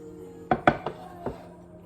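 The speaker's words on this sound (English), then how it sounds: "Take your other plate, flip." A cake is flipped onto a serving plate using a second plate laid over it, giving a few close ceramic clinks and knocks, two sharp ones together followed by two softer taps.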